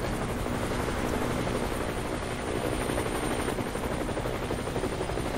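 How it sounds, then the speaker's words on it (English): Helicopter approaching in the video game Them and Us, a steady dense rotor roar with whirring chop filling the scene, continuous and fairly loud with no talking. "When a helicopter comes, it's the end."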